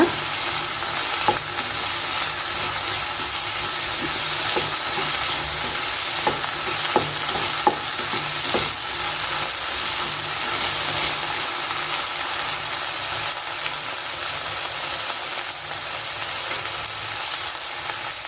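Okra sizzles steadily in hot oil in a pan for a traditional Havyaka-style dish, a dense, continuous frying hiss dotted with scattered small pops and crackles, close and fairly loud, with no voices.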